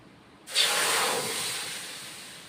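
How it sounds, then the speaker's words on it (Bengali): Ridge gourd dropped into hot water to boil, a sudden sharp hiss that swells then slowly fades over a couple of seconds, close and alone. "একটু দিয়ে দিলাম গরম জলে একটু বয়ল হবে ঝিঙ্গেটা"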